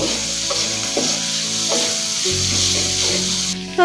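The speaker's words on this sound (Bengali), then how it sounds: "আলুটাকে কিছুক্ষণ ভেজে একটু হালকা সেদ্ধ হলে তারপর করলা আর ফুলকপি দিয়ে দিব" Potatoes fry in a pan with oil for a bitter gourd and cauliflower dish, a close continuous sizzle with a few soft scraping stirs, steady throughout and loudest at the very end.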